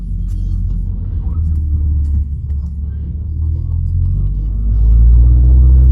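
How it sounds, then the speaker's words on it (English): A car's start-stop system restarts the engine, a low steady rumble inside the cabin that thickens and grows louder toward the end as the engine fires back up. "I'm going to take my foot off to start the car"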